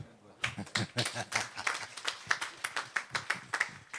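Steady round of audience applause at a memorial satsang gathering after a reverend speaks, many hands clapping continuously and fairly close for several seconds, with a faint murmur of voices underneath.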